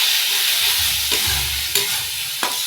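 Masala for a mushroom dish, with a little tomato ketchup added, sautés in a pan, a soft continuous sizzle with a few brief scrapes of the spoon, close and quiet, no voices.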